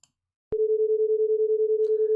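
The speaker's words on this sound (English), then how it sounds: "Now this is actually a 10 hertz beat frequency that we were able to hear." Two pure electronic tones 10 Hz apart combine into a single steady hum that pulses quickly, beating about ten times per second, starting abruptly after a short silence and holding alone at moderate loudness.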